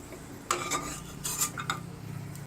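A spoon scoops roasted peanuts out of a pan while poha is being made, with a few close metallic scrapes and clinks over a low background hum.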